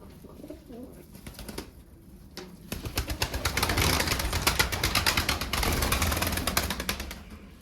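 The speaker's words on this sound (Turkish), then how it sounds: "İçeride uçurup oynattığı kuşlar da var." Pigeons flap their wings inside a loft, first a few scattered flutters, then a dense, rapid run of clattering wingbeats that swells and holds close by.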